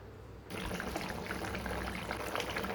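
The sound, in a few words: water poured into cooking greens curry with potatoes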